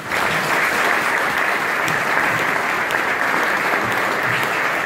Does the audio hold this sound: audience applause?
yes